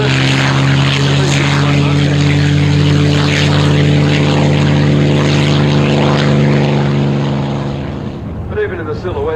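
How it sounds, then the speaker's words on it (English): A propeller aircraft powered by two Allison engines of about 1200 horsepower drones loudly and steadily past at an airshow, a smooth humming purr that fades toward the end as a faint voice comes in. "you can hear the purr of the two Allisons"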